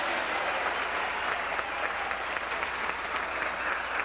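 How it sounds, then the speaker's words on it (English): Spectators clap at a 1984 PBA seniors bowling championship, a dense, sustained round of applause filling the hall at a steady level with no talking over it. "I think Jim deserves a round of applause back there."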